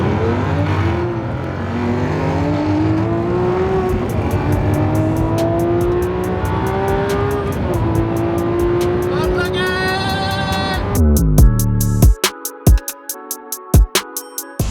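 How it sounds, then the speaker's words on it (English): Range Rover SVR engine revving hard and racing, a loud sustained roar with rising pitch sweeps as it accelerates through gears, ending in sharp crackles and pops after the throttle lifts. "A Range Rover SVR currently wants to race me"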